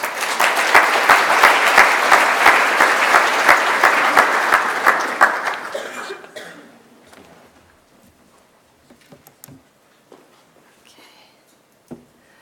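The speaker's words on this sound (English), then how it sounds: "give Jesse a round of applause, please" A conference audience at a Sedex event claps for a speaker in steady, fairly loud applause for about six seconds, then it thins to a few scattered claps and quiet room noise.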